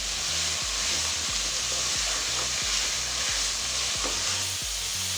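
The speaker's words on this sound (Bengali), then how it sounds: "গাজর আর পেঁপে আমি এইভাবে 1 মিনিট ভেজে নিব" Carrot and papaya pieces frying in a pan for a Chinese-style chicken vegetable curry: a steady close sizzle with a regular rhythm of scraping stirs running throughout, no talk.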